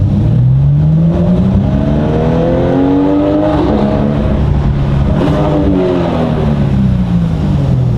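A Porsche 911 992 GT3 flat-six engine revs lightly to around 5000 rpm, rising and falling in smooth sweeping tones, close and loud with no talk.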